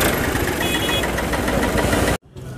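A self-start tractor engine idles close by, loud and steady with a rough, knocking diesel rhythm. It cuts out abruptly near the end, leaving a quieter background.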